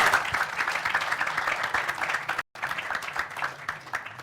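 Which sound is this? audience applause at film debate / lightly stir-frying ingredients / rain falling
audience applause at film debate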